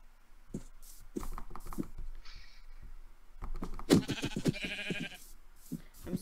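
Minecraft sheep bleating in several separate calls at close range, mixed with scuffing and clicking game sounds, and one busier burst of noise partway through.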